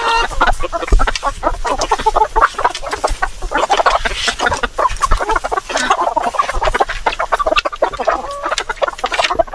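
Egg-laying heritage chickens on a small farm cluck and squawk continuously, several birds close by in overlapping, busy bursts with no one speaking.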